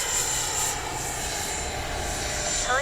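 FMS 80mm F-86 radio-controlled jet in flight, a steady whooshing electric ducted-fan whine with a high tonal hum, holding fairly constant as it passes, alone without talk.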